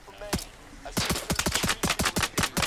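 Gunfire in the video game Arma Reforger during a PvP event: a single sharp shot, a pause, then a rapid run of about a dozen loud, evenly spaced cracks, with faint voices underneath.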